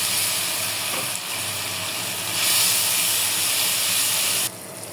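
Water hits spice paste frying in a hot pan with a loud, continuous sizzling hiss of steam that swells midway, then drops off sharply near the end.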